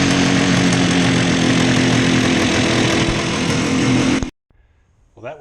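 Two-stroke Bridgestone GTR 350 motorcycle engine with a freshly rebuilt crank, running loud and close with a steady buzzing roar for about four seconds, then cutting off abruptly, followed by near silence and a faint brief noise.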